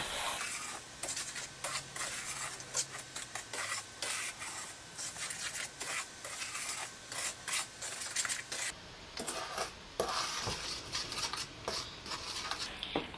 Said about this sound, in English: You're going to put your pan on a medium-low heat and stir this to combine.